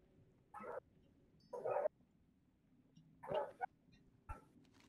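A dog barks in four separate short bursts spread across the stretch, moderately distant over a low quiet background with no speech.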